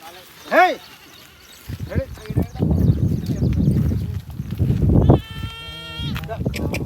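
A goat bleats sharply near the start, followed by more bleats and shuffling, with people talking over the noise.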